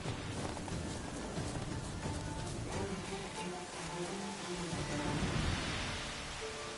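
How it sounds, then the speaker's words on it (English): Rain and thunder in The Witcher 3 game world: a constant hiss of falling rain with low rolling thunder underneath, moderately loud and steady throughout. "Looks like rain."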